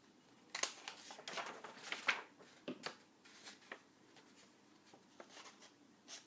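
Scissors cutting through paper card for a DIY treat bag, a close, quiet run of irregular snips and crisp rustles with short gaps between cuts.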